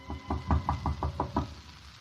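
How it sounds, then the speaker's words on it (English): Eight steady knocks on a wooden door, evenly paced and fairly close, a radio drama sound effect standing alone with no voices. "Her father knocks at the door."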